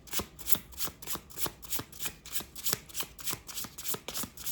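A deck of animal spirit cards is shuffled in a quick, even rhythm, roughly three soft riffling slaps per second, close and quiet with no voice over it.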